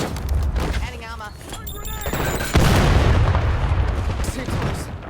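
Shotgun and other gunfire in the video game Black Ops 7 Warzone: loud, dense bursts of shots and booms run through the whole stretch, with a heavier blast partway in, mixed with game voice callouts.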